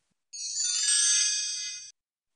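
An electronic telephone ringtone sounds once, a bright steady chime lasting about a second and a half, with silence before and after.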